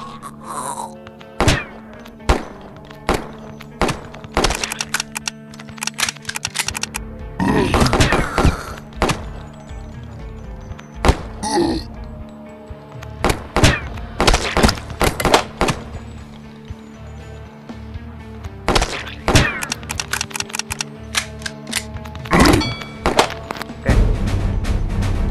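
Gunshots ring out from weapons in the zombie game Dead Zed: repeated sharp, loud reports come singly and in quick bursts, irregularly spaced across a long stretch of play, with a few quieter gaps.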